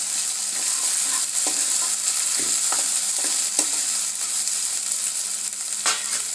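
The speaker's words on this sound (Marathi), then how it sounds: "लालसर भाजून घ्यायचा आपल्याला कांदा." Onion browns in a pan for palak paneer, a steady close sizzle broken by repeated scraping stirs of a spoon, with no voices.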